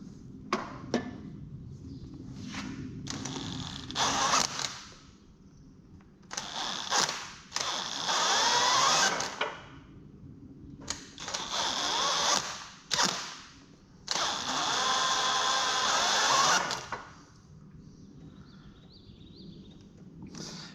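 A three-speed power drill in second gear whines and strains close by in several bursts of a few seconds each, spinning up hard, then cutting out between runs.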